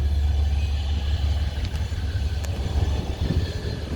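Providence and Worcester freight locomotive 2215 leaving Hartford yard, a loud, steady low diesel rumble with wheel and rail noise, heard close and continuous without talk.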